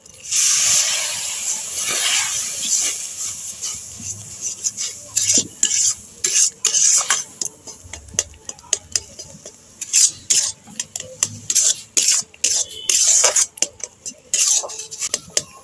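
Dough of flour and water being stirred in a pan over low heat for nikuti sweets, giving close, repeated scraping and clinking strokes of a utensil against metal with a light sizzle underneath.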